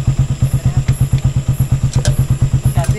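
A Raider motorcycle engine runs close and loud, with a steady, rapid thumping exhaust pulse throughout and no talk over it.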